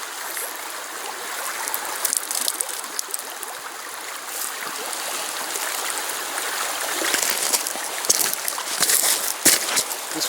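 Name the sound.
dunking and squeezing something in water to remove tannins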